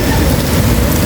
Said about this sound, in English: But it's raining, so smart thing to do.